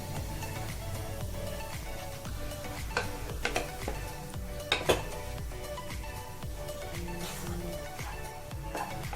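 Cooked okra being scooped from a pan into a steel bowl, with a soft sizzle under scattered metallic clinks and scrapes of utensil against pan and bowl, close-up with no talking.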